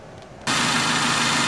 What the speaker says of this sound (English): Just give me a second to start up the car.